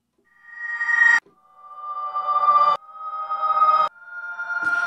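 A reversed synth instrument with no cutoff modulation plays four swelling notes. Each note grows from silence to a loud peak and then stops abruptly, giving a steady backwards rhythm of rising tones alone.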